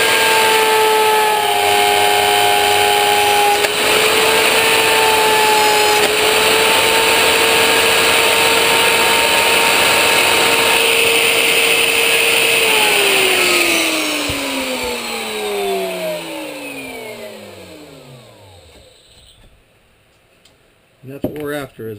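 A router bit cuts a quarter-inch-deep slot in wood for a teardrop trailer build. The tool gives a loud, steady high whine, then winds down as the motor slows to a stop, followed by a few clunks.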